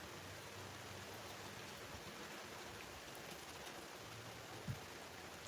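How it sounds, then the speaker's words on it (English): Rain falls steadily onto an outdoor deck, a faint, even hiss of drops with no distinct breaks, continuing unchanged throughout with a soft thump near the end. "See, here comes more rain."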